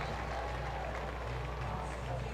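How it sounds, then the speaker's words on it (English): A baseball crowd applauds steadily at a minor-league game between Lehigh Valley IronPigs and Scranton/Wilkes-Barre RailRiders, a continuous distant roar of clapping in the stadium, with a voice speaking under it. "Good round of applause for Casey the Bat Dog"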